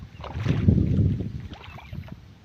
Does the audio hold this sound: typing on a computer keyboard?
no